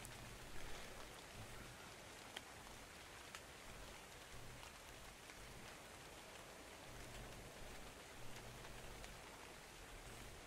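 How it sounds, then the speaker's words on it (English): Acid rain falls during a video game match, a quiet, even hiss of rainfall with scattered faint drop ticks that goes on steadily without any voices. "Not a great deal going on during this acid rain"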